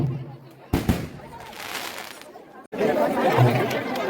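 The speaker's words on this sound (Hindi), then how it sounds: "नए टेक्निक के माध्यम से आतिशबाजी हो रही है" Fireworks burst at a Dussehra festival in village Araud, Kanker, with sharp loud cracks and a steady crackling roar over dense crowd chatter and an announcer's voice.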